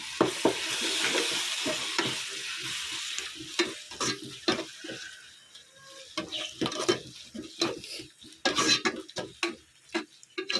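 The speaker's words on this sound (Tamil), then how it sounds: "இஞ்சி பூண்டு பேஸ்ட்டு அதுக்கப்புறம் ஒரு கிண்டு கிண்டி விடுவோம்" Ginger garlic paste being stirred in a hot frying pot for beef curry, with repeated scraping and clinking strokes over a steady sizzle, close and fairly loud, no talking.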